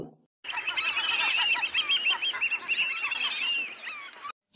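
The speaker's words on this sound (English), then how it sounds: "Seagull." Seagull calls fill the recording, a dense overlapping run of loud, harsh squawks and yelps from several gulls that continue steadily for about four seconds before stopping abruptly.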